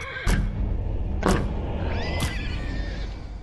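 Horses in the Hunt: Showdown game whinny loudly, three sharp neighing calls spaced about a second apart, close and prominent over low ambient rumble.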